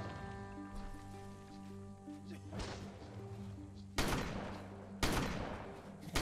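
Gunfire in the video game Ark: Survival Ascended: a steady low background hum breaks into three sharp, loud shot bursts a second or so apart, each trailing off quickly.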